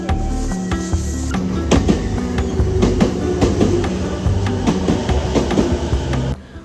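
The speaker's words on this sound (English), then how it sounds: "I walked to the train station and then took the train to Shinjuku." A train rumbles steadily along the rails from a suburban station to Shinjuku, Tokyo, with rhythmic clicking and clacking over a continuous low roar.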